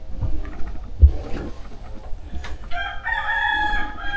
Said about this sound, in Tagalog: So may narinig kayong manok guys.